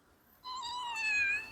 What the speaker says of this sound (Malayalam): അതെൻ്റെ പൂച്ചയുണ്ട്